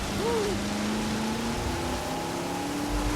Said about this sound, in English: this is raining so much that there's like aquaplaning going on